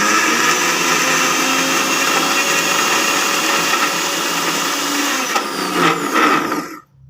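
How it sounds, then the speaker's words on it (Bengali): A small-jar mixer grinder whirs loud and close while grinding soaked matar dal into paste, a steady high-pitched motor drone that shifts slightly near the end, then cuts off abruptly. "মাঝে মধ্যে ঢাকনা খুলে নাড়িয়ে তারপরে বেটে নিলেই কিন্তু ডালটা খুব সুন্দরভাবে বাটা হয়ে যাবে"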